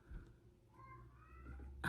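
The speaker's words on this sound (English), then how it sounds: "you can hear my cats crying" Pet cats cry indoors with a faint, drawn-out meow rising and falling, a quiet wavering call followed by a sharper brief sound at the end.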